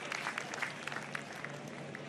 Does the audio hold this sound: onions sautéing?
no